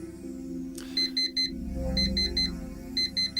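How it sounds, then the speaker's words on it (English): An electronic alarm clock rings in the video game Actual Sunlight, with clear, repeated bursts of rapid high beeps in regular groups over a low hum, close and insistent. "Probably because your alarm clock is really annoying."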